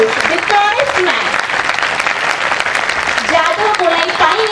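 A hall audience applauds steadily and loudly at a youth conference, welcoming Padma Shri Jadav Payeng, the Forest Man of India, with dense continuous clapping under a host's voice.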